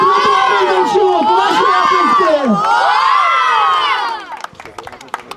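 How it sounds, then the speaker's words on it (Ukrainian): Crowd at a school football league awards cheering and shouting for the winning lyceum team, with children's high excited voices and whoops loud and sustained, then fading into scattered shouts. "Ваші оплески!"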